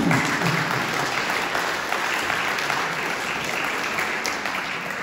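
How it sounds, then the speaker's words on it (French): An audience at an association's thirtieth-anniversary event claps warmly and continuously, a dense even wash of applause that holds steady before easing slightly. "Donc, on va l'applaudir."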